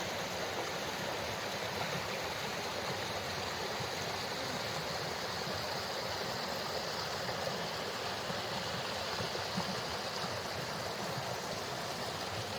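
A creek in Great Basin National Park rushes steadily past a small footpath crossing, a continuous broadband burble of flowing water at even loudness throughout, with no voices.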